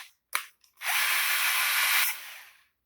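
A power drill bores into a wood guitar pedal board, a brief click first, then one steady, loud whir lasting over a second before it spins down to silence.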